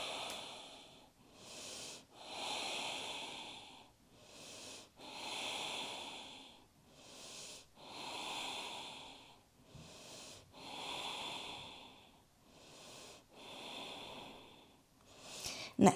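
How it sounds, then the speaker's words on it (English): Slow, deep yogic breaths, long inhales and exhales alternating in a steady rhythm with brief pauses between, close and clear with no talking, during a gentle warm-up or cool-down practice. "keep breathing in and out. Inhaling and exhaling."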